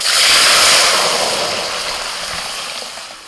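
Dal poured into a hot tempering for a home-cooked Bengali meal gives a loud hissing splash that peaks early, then fades gradually into a steady simmer.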